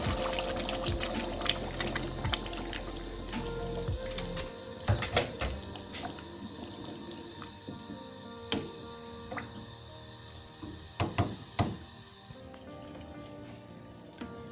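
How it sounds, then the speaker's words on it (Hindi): Cooking water from boiled white chickpeas is poured into a simmering chickpea curry. A steady liquid pour runs for several seconds, followed by light clinks and taps of a pot and utensils, with no talking. "इस जगह पे हम इस पे सफ़ेद चने जो उबाले थे उसका पानी मिक्स करेंगे"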